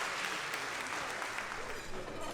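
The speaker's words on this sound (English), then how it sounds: "Let's give her a round of applause" Audience applause for a student alumni speaker at an evening school fundraiser, a dense, steady wash of clapping lasting the whole stretch at even loudness, with no pause or fade.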